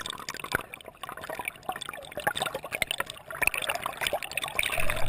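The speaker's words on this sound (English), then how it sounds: "when I stuck the GoPro inside a waterproof case and I stuck it in the water and got some shots of fish, the sound that you actually heard was like this" Underwater sound picked up by a GoPro Hero 2 sealed in a waterproof case: a muffled, bubbly wash of trickling and sloshing water with crackly pops, steady and close.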